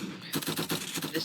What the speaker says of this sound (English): The CV shotgun is an accurate, fast-firing